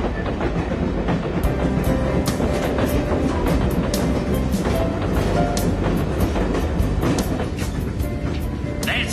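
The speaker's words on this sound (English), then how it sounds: "This is the train to Briarhurst" A train rolls steadily along the rails with a continuous loud rumble and a regular clickety-clack of wheels, no voices.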